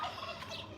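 Garden chickens give a brief burst of close, throaty clucking while feeding on sprouted plants, lasting under a second with no voices.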